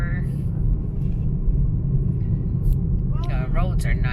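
Car driving fast along a road between Naga and Argao, a steady low engine and road rumble throughout, with a person talking briefly near the end.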